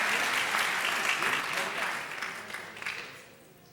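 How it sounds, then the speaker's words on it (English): Audience at a school board meeting applauds students being recognised for their achievements, a sustained round of clapping that gradually fades out toward the end. "Let's give those students another round of applause."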